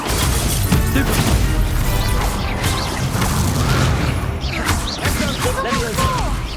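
A Stupefy spell goes off during a dueling tournament in Hogwarts Legacy: loud, dense crashes and booms layered over continuous battle effects and swooshing magic, with no pause across the whole stretch.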